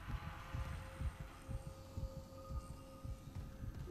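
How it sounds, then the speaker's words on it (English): A heartbeat throbs in the Dead Space remake, a quiet, steady run of low thumps over a faint ambient hum with no talk. "Why is there a heartbeat?"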